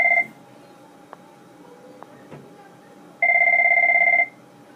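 Two short electronic telephone rings with a steady two-tone warble sound in a classroom during a precalculus lesson: a brief tail at the start, then a full ring about a second long after a quiet stretch with faint clicks.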